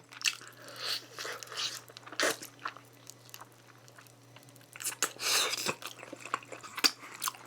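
Crunchy bites and chewing of Puradak gochu-mayo fried chicken sound close to the mic as a series of irregular crisp crunches with quiet pauses in between.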